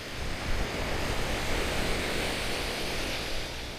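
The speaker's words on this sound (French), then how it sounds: "Petite brise de la mer, le son des vagues." Sea waves wash steadily onto an isolated Venezuelan beach under a light sea breeze, a continuous loud broadband roar of surf with no voices.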